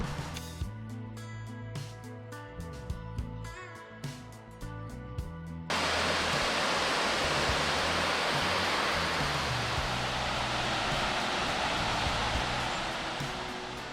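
Water pours steadily over a spillway, a loud, dense broadband rush that holds constant once it begins about halfway through, after a stretch of scattered clicks and knocks.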